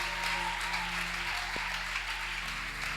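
Congregation applauding during a French-language church service, a steady, moderately distant wash of clapping sustained throughout without pause.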